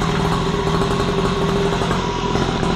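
A motorcycle engine idles steadily right after an easy start, a close, loud and even rumble that runs alone with no talk.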